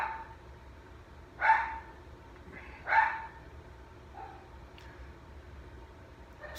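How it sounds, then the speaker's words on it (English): A dog barks indoors, two sharp, moderately loud woofs about a second and a half apart, followed by a faint softer yip, with a quiet room in between. "Oh my goodness, my dog is tripping."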